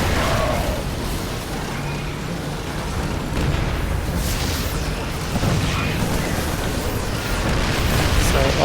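Siege tank fire and explosions in a StarCraft II match, a dense continuous rumble of booms and blasts with no clear gaps between them.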